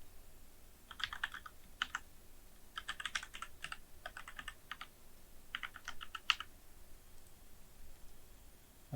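Computer keyboard keys tapped in quick bursts while an email address is entered on a login page, several short clusters of clicks with brief pauses between them, close and fairly quiet, no voices.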